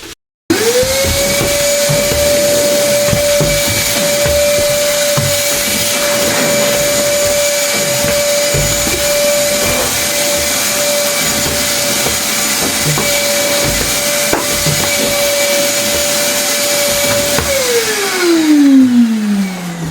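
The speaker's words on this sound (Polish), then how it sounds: "Tak działa sam odkurzacz." A household vacuum cleaner runs alone, without its barrel separator attached, starting with a sharp rise into a loud, steady whirring drone with a constant tonal hum, then spinning down with a falling pitch at the end.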